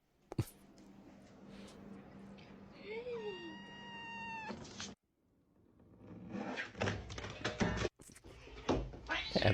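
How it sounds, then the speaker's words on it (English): A cat lets out several drawn-out, rising-and-falling meows close by, followed by loud clattering knocks and rustling like a drawer or cupboard being banged around. "Cats are fucking retarded."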